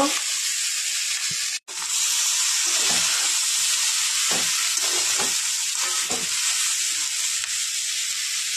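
Bori lentil dumplings frying in a pan for a leafy chickpea-greens dish, a loud continuous hissing sizzle with a brief break and repeated utensil scrapes as they are stirred.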